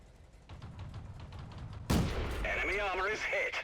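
A tank destroyer gun firing a single heavy shot in World of Tanks, a sharp loud boom followed by ringing, warbling whine tones over low rumble, with someone speaking quietly beforehand.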